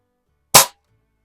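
An XS-B3 .177 sidelever springer air rifle fires a pellet in a garage, giving one sharp, close crack that dies away quickly into silence.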